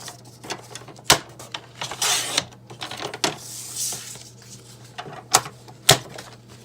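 A handheld paper punch clicks through paper for a craft project, several sharp mechanical snaps spaced irregularly amid soft paper rustling and handling, close by with no talking.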